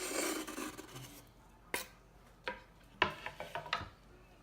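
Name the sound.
mixing meatball ingredients with parmesan, onion, garlic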